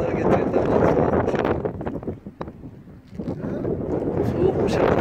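Heavy, cold wind on a snowy highland plateau, Kızılcakoru Yaylası in Vezirköprü, Samsun, Turkey, buffets the microphone in a loud, continuous broadband roar, with a voice speaking underneath.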